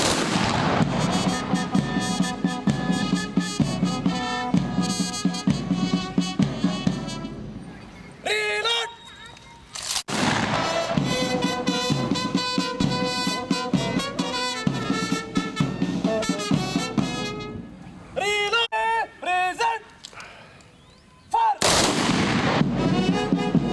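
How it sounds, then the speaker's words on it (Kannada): A parade team fires a three-round gun salute honoring martyrs at a Martyrs' Day ceremony on the DAR ground in Kalaburagi, with sharp loud volleys about ten seconds apart breaking through band music. "ಹುತಾತ್ಮರ ಗೌರವಾರ್ಥ ಕವಾಯತು ತಂಡದಿಂದ 3 ಸುತ್ತು ಗುಂಡು ಹಾರಿಸಿ ವಂದನೆ ಸಲ್ಲಿಸಲಾಯಿತು"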